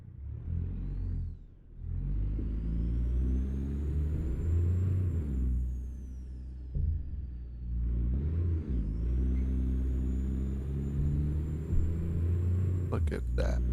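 An old 350-horsepower truck engine in American Truck Simulator runs as a loud, continuous rumble that rises and settles with throttle changes, with a faint whine on top.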